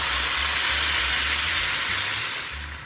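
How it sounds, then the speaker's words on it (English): Finely chopped pork and sauce sizzle in a well-heated fry pan, a steady, bright, close hiss that holds level for a few seconds before easing off slightly. "Stir fry the pork."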